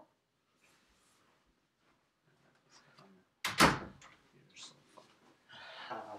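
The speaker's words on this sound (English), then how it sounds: "close the door." A door slams shut with one loud close-by thud around mid-clip, after quiet moments with faint background voices, followed by rustling and soft handling noises.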